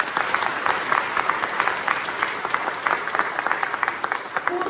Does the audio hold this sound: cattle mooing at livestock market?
no